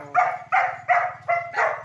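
A dog barks five times in a quick, regular series, close and fairly loud, with a low steady hum underneath.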